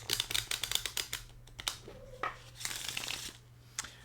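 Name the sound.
shuffling Ducale cartomancy playing cards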